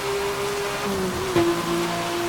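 Rain in the racing game Need for Speed: Hot Pursuit (2010) hisses steadily through the whole race, mixed with a low car engine drone and a brief louder swell partway through.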